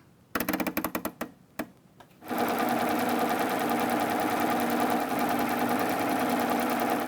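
A serger sewing machine stitches a crochet ruffle edge with decorative thread, first in short stuttering bursts, then running steadily and loudly in a continuous whirring rattle for several seconds.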